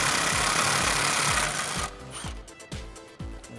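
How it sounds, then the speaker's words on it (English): An impact wrench hammers on a sway bar bolt of a 1994-2004 Ford Mustang, loud rapid rattling bursts close by that ease into several short separate bursts. "So I'm gonna give 1 hand to the bar and 1 hand to my impact and get this bolt out of here."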